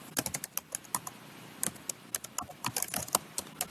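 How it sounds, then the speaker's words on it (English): Fingers tap out words on a computer keyboard, quick irregular clicky keystrokes in close succession with brief pauses between bursts. "In the center section, type in the course name."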